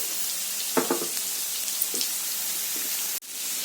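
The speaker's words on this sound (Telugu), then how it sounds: "ఇప్పుడు మనకి ఈ ధనియా పౌడర్ కూడా కొంచెం సేపు ఫ్రై అవనిద్దాము." Coriander powder frying in a pan for a chicken red roast gives a steady soft sizzle, with a few brief scrapes of stirring near the start and a sharp tap toward the end.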